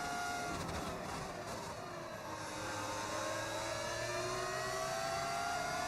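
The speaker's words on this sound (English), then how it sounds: "I can just hear a Red Bull engine behind me." A Red Bull Formula 1 car engine in the racing game F1 26 screams steadily at high revs, its whining pitch climbing and sliding as it closes in, loud and continuous with no talking.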